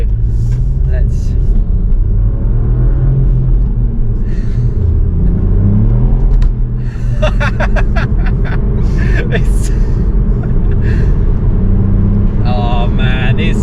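A 2023 Ford Puma ST with a 1.5 EcoBoost engine and manual gearbox pulls away on a wet, greasy road, heard from inside as a steady loud engine drone with road rumble and brief clicks and clunks.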